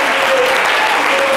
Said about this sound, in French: On applaudit Armel